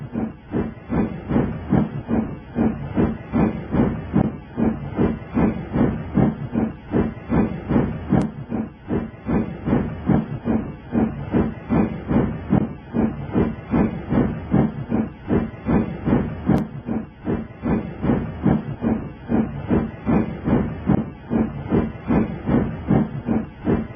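Cartoon steam locomotive, a 9F-type engine, pulling a train: steady rhythmic chuffing with hiss and wheel clatter, loud and continuous throughout, no talk.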